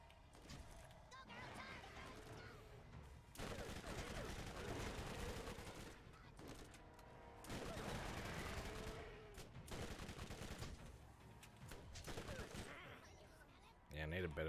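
SMG fire in The Borderlands on PS4 comes in several loud, rapid bursts separated by short pauses, with a voice present in the mix.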